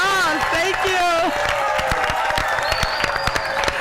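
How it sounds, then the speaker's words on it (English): Audience applause and cheering at the Sharks at the Beach finals event, a loud crowd clapping and whooping up close with talk over the top. "Give Liv's table, Olivia Yuhashi, another round of applause."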